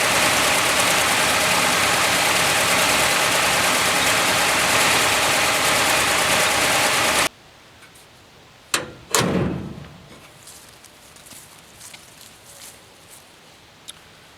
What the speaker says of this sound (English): That's a pretty smooth running engine.